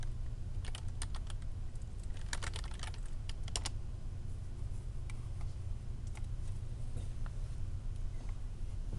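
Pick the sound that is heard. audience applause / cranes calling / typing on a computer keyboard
typing on a computer keyboard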